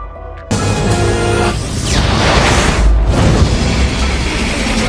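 A loud, sustained explosion roars with a sudden onset, rumbling low and dense before a whooshing surge and continued heavy blast noise, as a base is destroyed in the film Alien vs. Predator (2004).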